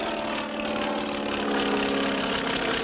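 Steady, droning engine hum of a small plane, running continuously at an even pitch without pauses and with no voices.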